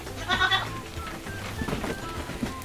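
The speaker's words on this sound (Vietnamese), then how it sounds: "Sao mấy con dê này nó ăn bạo lực vậy?" Several goats bleat in a pen while feeding on banana leaves, harmonic cries overlapping at close range over rustling and background noise; a few nasal calls repeat through the scene.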